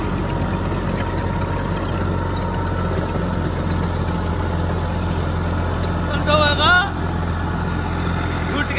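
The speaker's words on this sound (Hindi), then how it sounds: "पहले लो में चल रहा है ट्रैक्टर, दोनों लीवर डाउन है।" A tractor engine runs steadily in first low gear while ploughing a field, a constant low drone throughout with a brief louder surge near the end and faint voices in the background.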